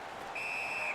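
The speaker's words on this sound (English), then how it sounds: "A whistle and a rest." A referee's whistle at an ice hockey game between the Seattle Whales and Detroit Red Wings sounds one sustained, shrill blast of about half a second over a steady arena crowd hum.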